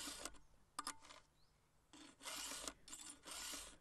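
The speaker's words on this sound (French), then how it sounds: "On lime toutes les gouges de la chaîne à une longueur identique pour obtenir une coupe douce et régulière." A chainsaw chain's cutters being sharpened with a round file held in a file guide, giving short close rasping strokes in separate bursts with quiet gaps between them.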